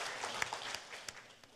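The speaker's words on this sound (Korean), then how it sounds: "여러분 박수 부탁합니다." Faint, thin applause from an audience at a 2023 cryptocurrency event in Korea, a scattered patter of claps with a few sharper hits, heard from a distance and fading slightly over a brief moment.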